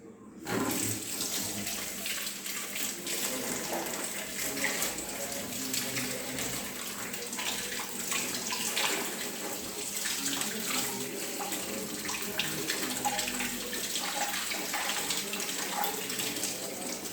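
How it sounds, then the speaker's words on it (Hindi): Tap water runs steadily into a sink while a copper vessel is rinsed, a continuous close splashing gush lasting the whole stretch with faint clinks of handling and no speech. "अब देखिए मैं इसे पानी से वॉश कर रही हूँ।"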